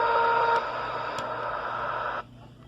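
A President Walker II radio receiver with its high cut turned down gives steady, loud hiss and static, which steps down in level partway through and then drops to a quieter noise floor near the end.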